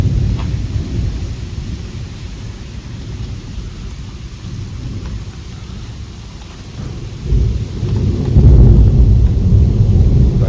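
A heavy thunderstorm at night with driving rain and thunder, a loud rumbling roar swelling near the end over constant downpour, no voices.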